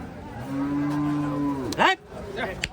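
At a cattle market, a cow lets out one long, loud moo that rises and breaks off, followed by a brief burst of nearby rustling and noise.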